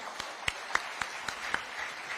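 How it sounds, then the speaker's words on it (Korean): An audience of People Power Party lawmakers at their workshop applauds after a surprise appearance by former president Park Geun-hye. The clapping is steady and fairly soft and distant, with a few sharper individual claps standing out. "정말 귀한 말씀 전해주신 우리 박근혜 대통령님께 다시 한 번 더 뜨거운 박수 보내주시기 바랍니다"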